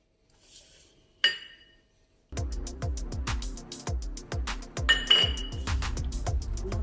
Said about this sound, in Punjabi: ਇਹਨੂੰ ਵਿੱਚ ਰਲਾ ਦਿੰਦੇ ਦਾਂਗੇ